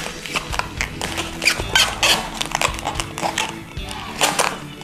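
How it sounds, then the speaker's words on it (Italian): A latex balloon twisted by hand into a little fish shape, giving a run of loud, close rubbery squeaks and squeals in irregular bursts, with a faint voice in the background. "oggi sono qui per insegnarvi a fare un simpatico pesciolino con un palloncino"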